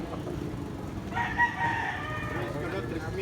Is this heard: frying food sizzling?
no